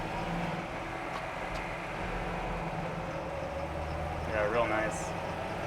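Steady low drone of a 1981 Toyota Land Cruiser FJ45 pickup engine while driving, heard from inside the cab, with someone briefly speaking near the end.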